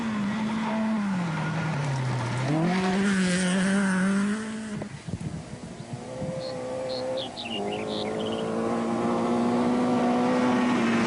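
An Audi 80 Quattro Group A rally car at the 1985 Acropolis Rally, its engine droning steadily and loud, pitch dipping then climbing through gear changes, with a brief rough lull midway before the engine note rises again.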